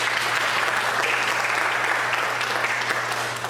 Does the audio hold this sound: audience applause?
yes